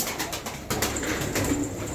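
Arka Tepe pigeons coo in soft, repeated throaty calls close by, set against a busy background of rustling and ambient noise.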